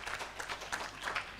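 Applause from the audience at a university students' guild swearing-in ceremony, a brief burst of scattered clapping heard fairly distantly with uneven bursts of hand claps.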